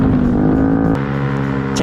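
A Honda Beat STD scooter with a black-coated Samlong Amora full-system exhaust gives a loud, raspy engine drone close by that drops abruptly in pitch partway through as the revs fall back.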